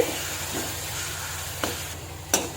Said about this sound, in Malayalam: വിനാഗിരി ചേർത്ത് കൊടുക്കുകയാണ്. ലോ ഫ്ലെയിമിൽ ഇരുന്ന് തിളക്കട്ടെ.